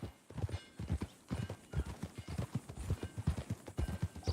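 A horse in Red Dead Redemption 2 walks with steady clip-clop hoofbeats, close and continuous, with a brief neigh mixed in.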